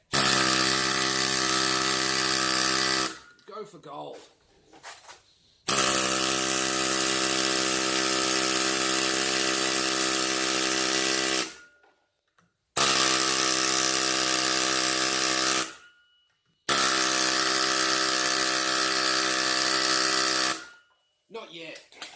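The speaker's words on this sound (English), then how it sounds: "Next, take an air hammer," An air hammer fires in long sustained bursts of rapid pounding, loud and close, roughly four runs of several seconds each separated by short pauses, with brief talk in the gaps.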